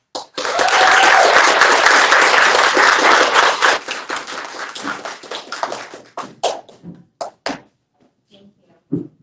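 A crowd at a Republican meet-and-greet fundraiser in Chicago applauds a party vice chairman, loud and close, a dense roar of clapping that fades after a few seconds into scattered individual claps and a few last slaps.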